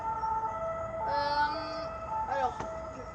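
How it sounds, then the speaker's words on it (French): A fire engine siren wails steadily as it passes through an outdoor area, a sustained wavering two-tone sound at moderate distance over background rumble, with a person talking nearby. "Je vais attendre que les pompiers passent parce que ça fait un peu de bruit."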